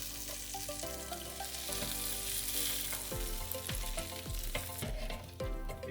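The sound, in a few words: stuffed burgers flipped and sizzling in air fryer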